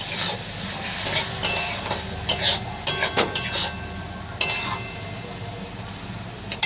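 Katla fish masala is stirred and fried in a pan over low heat, with a soft background sizzle broken by irregular scraping and clinking strokes of a spatula against the pan.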